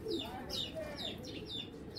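Grizzle pigeons coo in a short series of soft calls with brief chirps, close by and moderately quiet, while a low background hum runs underneath.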